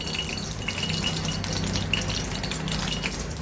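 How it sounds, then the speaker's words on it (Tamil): Tempering spices and curry leaves sizzle and crackle steadily in hot oil for dal, a close, continuous frying hiss with small pops. "தாளிப்பு வடிவம் போட்டு நான் தாளிச்சுக்க போகிறேங்க"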